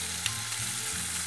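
Crushed raw San Marzano tomatoes fry in olive oil with garlic, giving a steady close sizzle and crackle with a faint low stirring rumble underneath, no voices.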